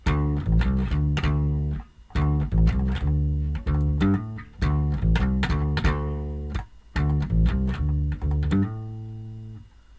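Bass guitar plays Riff A of a song, a loud, steady run of plucked notes in repeating phrases with short gaps between them, ending on a sustained note, with no talking.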